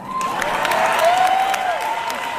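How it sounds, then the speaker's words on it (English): An audience clapping and cheering, a brief dense wash of applause with a faint sustained tone running through it. "How can you all clap this?"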